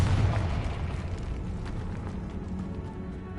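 A Confringo fire spell bursts in Hogwarts Legacy, a heavy rumbling blast that hits hard at the start and rolls off into a lingering low roar, without speech.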